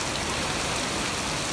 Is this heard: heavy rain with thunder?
yes